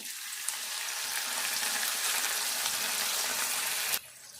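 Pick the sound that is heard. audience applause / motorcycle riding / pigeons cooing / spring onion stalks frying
spring onion stalks frying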